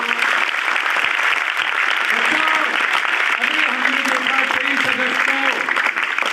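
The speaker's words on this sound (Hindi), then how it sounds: "एक बार अपने लिए जोरदार तालियां बजा दो।" Loud, sustained applause from a large gathering at a youth group event, dense and steady from start to end, with a few voices rising within it.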